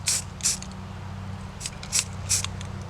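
Short hissing bursts of dark green spray paint from an aerosol can, applied lightly to a viper scale paint job, four or five quick separate blasts close by over a low steady hum.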